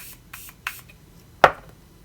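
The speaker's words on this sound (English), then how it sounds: "I'm gonna spray a little setting spray," A few soft taps and rustles, then one sharp, short hiss of a makeup setting spray bottle pumped once, fairly close.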